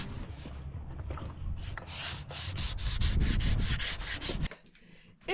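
Wood being sanded by hand, a rough rhythmic rasp of strokes back and forth that grows louder and steadier, close and alone, then stops abruptly before a faint bump.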